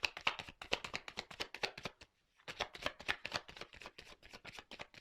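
Tarot cards shuffled by hand, a rapid flurry of crisp riffling flicks with a short pause midway, close and soft.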